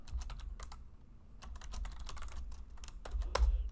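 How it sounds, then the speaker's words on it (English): Code is typed on a computer keyboard in rapid, uneven bursts of close keystrokes, with a brief pause and a heavier key strike near the end. "I'm just going to get to typing http get."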